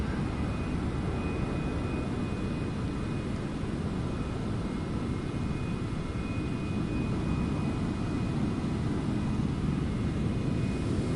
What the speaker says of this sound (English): And who's buzzing around in a fighter jet?